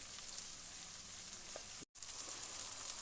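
Peppers and meatballs fry in a pan with a steady, close, bright sizzle and crackle throughout, broken by a brief silent gap near the end.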